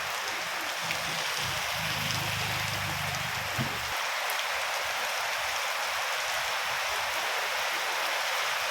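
A heavy night downpour patters and hisses continuously up close, while a low droning tone runs under it for the first few seconds and then stops, leaving only the steady rain.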